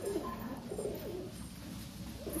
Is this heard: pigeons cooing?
yes